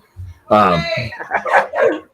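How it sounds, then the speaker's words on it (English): Sharp, close dog barks come in a quick run of yips and woofs, a few loud bursts one after another. "I think your dogs are barking, bro."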